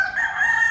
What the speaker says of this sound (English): I think that's a ring pheasant, I'm not sure.